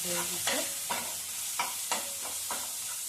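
Spice paste mixed with ground coriander stems is stir-fried in a pan: a soft sizzle broken by about seven quick, regular spatula scrapes and clinks, close and without talk.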